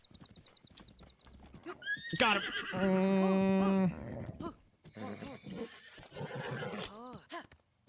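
In Zelda: Breath of the Wild, a strong horse fights its rider, giving loud, drawn-out neighs and whinnies with some hoofbeats, while someone speaks briefly.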